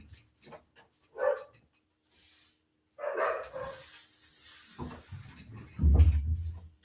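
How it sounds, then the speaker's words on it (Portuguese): Dogs bark in short separate bursts, a few sharp yaps spaced apart, then a louder, deeper bark near the end in an otherwise quiet room. "São meus cachorros, gente, desculpa, tá?"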